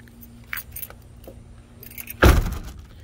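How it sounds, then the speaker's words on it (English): Car keys jangle as one is tried in the door lock of a 1995 Cadillac Fleetwood Brougham, light metallic clinks building to a louder rattling burst near the end, up close. "Does this key work the door?"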